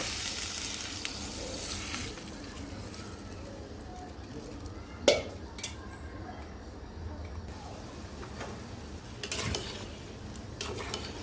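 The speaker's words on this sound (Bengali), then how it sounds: "বলক চলে আসছে এটা আবার নেড়ে চেড়ে তারপর আমি ঢেকে দিব" Vegetable curry in a pan, made with aubergine and potato, bubbles and sizzles steadily while it is stirred. A soft scrape sounds near the middle and later a few utensil clinks, and faint talk runs underneath.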